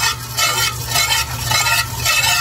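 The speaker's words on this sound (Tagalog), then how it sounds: "Lagyan po natin ng kaunting mantika para ipanggisa po natin dun sa ating mga ricado." Oil heating in a pan for sautéing aromatics, a loud sizzling with rhythmic stirring scrapes over a low hum.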